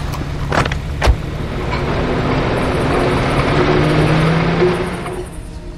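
A truck drives in the video game Far Cry 2: a couple of sharp clunks at the start, then the engine swells into a sustained revving drone that holds loud before easing off near the end.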